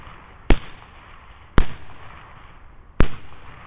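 Three sharp rifle shots ring out during a thermal hog hunt, spaced about a second or more apart, each a loud close crack with a short fading tail.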